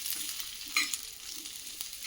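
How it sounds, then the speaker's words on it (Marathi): Light crackling sizzle of green chillies and cumin roasting on a hot pan, with a couple of sharper spits and a stir, close up and without speech. "मिरच्यासुद्धा आणि हे जिरं सगळं मस्तपैकी डाक पडेपर्यंत भाजून घ्यायचं"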